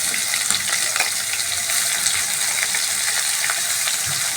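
Chopped, washed cabbage frying in a pan, a steady loud sizzle with crackling pops that holds evenly throughout, no voices over it.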